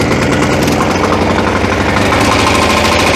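A walk-behind tractor (motoblock) engine runs in winter, loud and close, with a continuous throbbing, slightly knocking drone.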